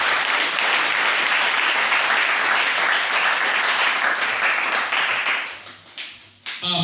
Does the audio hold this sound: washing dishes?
no